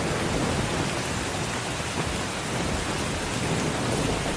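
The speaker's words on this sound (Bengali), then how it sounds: "এরপরেই শুরু হলো তুমুল বৃষ্টি" Heavy rain pours down in a cartoon scene on a foggy winter day by a riverside market, a dense, loud and unbroken wash of noise with rumbling thunder beneath it and no voices.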